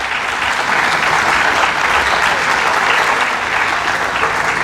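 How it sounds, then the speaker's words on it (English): Sustained applause fills a lecture hall during an inaugural university lecture on soil erosion, a steady dense wash of many hands clapping together at close range with no talk over it. "If you want to clap now"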